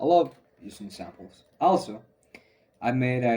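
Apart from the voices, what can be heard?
No everyday noise stands out behind the speech.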